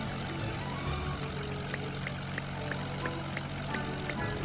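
A propeller airplane drones steadily in a Roblox game as it flies along a river course, a continuous engine hum with a faint, regular ticking on top and no talk.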